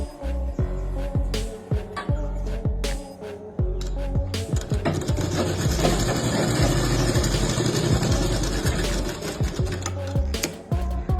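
A sewing machine stitches with a fast, rhythmic mechanical chatter and repeated ticking strikes. There is a sustained, busier run in the middle, loud and close.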